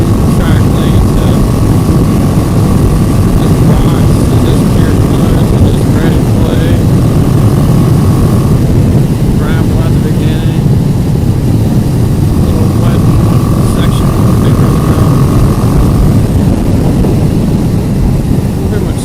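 A 2018 BMW G310GS motorcycle engine droning steadily and loud while riding in sixth gear over mixed terrain, with constant wind rush and no talk.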